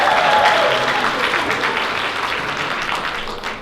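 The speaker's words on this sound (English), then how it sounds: "Let's have another round of applause for Jibu Youth Group." An event crowd at a World Refugee Day celebration claps for a youth group, a moderate, even wash of applause that slowly tapers off.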